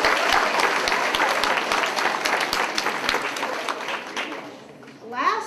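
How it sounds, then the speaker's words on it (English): Sustained round of applause from an audience at a sixth grade school academic assembly, many hands clapping steadily, fading toward the end as a voice begins speaking. "Round of applause again."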